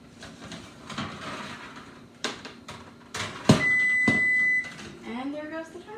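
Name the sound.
kitchen timer beeping while baking shortbread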